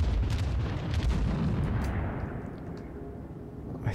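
Enemy ship artillery shells firing and exploding in World of Warships, with heavy rumbling booms that swell loudly for the first two seconds, then a lighter, fading roar under a dull continuous background.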